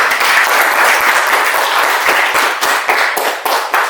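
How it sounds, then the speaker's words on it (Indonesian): A class applauds in a school lesson with loud, close, dense clapping that stays full and steady before thinning into scattered individual claps near the end. "Itu tepuk tangan dulu."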